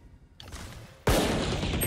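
In a shooter video game, a faint shot is followed a moment later by a loud, dense burst of gunfire that keeps going to the end.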